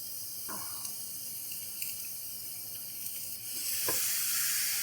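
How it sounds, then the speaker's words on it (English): Garlic added to a pan of nearly cooked vegetables gives a steady, moderately loud sizzle with a few scraping stir clicks, swelling louder near the end, with no talk. "so let's add our garlic."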